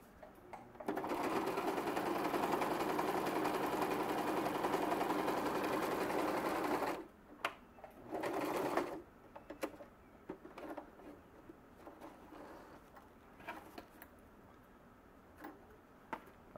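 A sewing machine stitches waxed canvas for a drawstring bag in one steady, close whirring run, then stops, followed by brief short bursts and faint ticking handling sounds.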